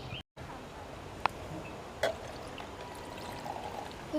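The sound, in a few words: straining boiled black pepper water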